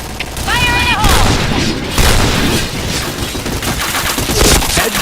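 A grenade goes off in a shooter video game amid rapid gunfire and booming blasts, loud and dense throughout, with in-game electronic tones and voices over the top.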